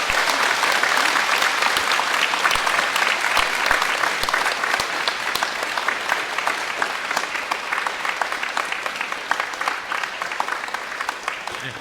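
A church congregation applauds at a priest's first Mass, with loud, continuous, densely packed clapping filling the whole stretch without letting up.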